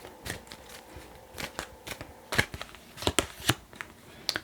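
Tarot cards are drawn and handled close by, giving soft papery flicks, snaps and shuffling rustles at irregular intervals against a quiet background.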